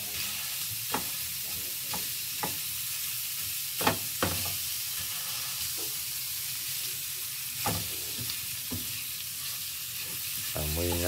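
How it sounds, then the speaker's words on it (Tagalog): Pork sisig fries in a hot pan with a steady loud sizzle, broken by scattered sharp pops and crackles at irregular intervals, close up with no talk over it. "Naputok-putok pa tong sisig na to."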